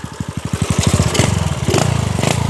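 A Honda Sonic motorcycle engine revving in first gear, loud and close, its firing pulses quickening from a slow putter into a fast, steady burble.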